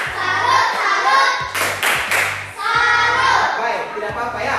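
Schoolchildren in a classroom do a rhythmic salute clap, with patterned bursts of clapping mixed with their chanting voices and a low thumping beat underneath.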